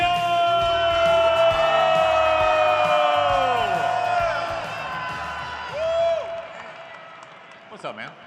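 A crowd at Mariners FanFest cheers and whoops loudly, with sustained yells and shouts layered together before the noise fades; a voice rises briefly near the end.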